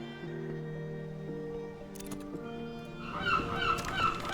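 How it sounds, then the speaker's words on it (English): Seagulls calling in the video game Book of Hours, a burst of harsh, honking cries rising over sustained low musical tones near the end. "The memorable sounds of the seagulls."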